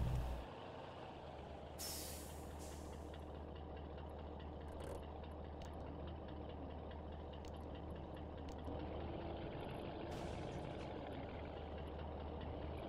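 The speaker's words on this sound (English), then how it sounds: "This truck is freaking flames everywhere." A heavy truck engine idles in the Spin Tires off-road video game, a low steady rumble throughout, with sharp hissing bursts of air brakes near the start and near the end.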